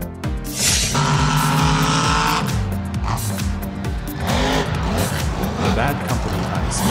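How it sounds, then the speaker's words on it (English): A 2015 Chevrolet Silverado Z71 monster truck at a Monster Jam event roars close by, its engine surging and rising in pitch, with screeching tires and crowd noise. "The Bad Company Ice is a 2015 Chevrolet Silverado Z71 monster truck"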